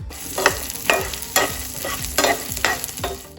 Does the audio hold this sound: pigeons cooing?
no